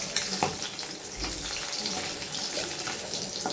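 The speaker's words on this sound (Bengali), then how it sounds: "ট্যাংরা মাছগুলোকে ভেজে নিচ্ছি" Tangra fish frying in a pan at home, a steady close hiss and crackle of oil with faint watery sizzle throughout.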